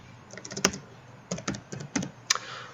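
Brief bursts of typing on a computer keyboard while working in Unreal Engine 4, a handful of close, crisp key clicks in short clusters separated by pauses.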